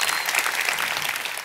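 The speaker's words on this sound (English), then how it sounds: "If everybody could please join me in giving him a round of applause." Audience applause at a Xiaomi product launch event in September 2023, a dense steady clapping from a large crowd that fills the whole moment without letup.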